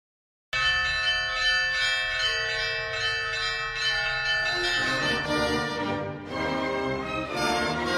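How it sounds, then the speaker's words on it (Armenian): Church bells ring out loudly and continuously at a thousand-year-old cathedral, layered sustained tones overlapping and swelling with no voices. "Օր ու գիշեր հնչեցրեք եկեղեցու զանգերը։"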